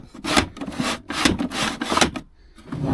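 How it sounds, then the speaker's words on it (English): A special door on a listed second-hand item is worked open and shut, giving close, rough scraping and rubbing strokes in several bursts with brief pauses. "There's this door that opens like this."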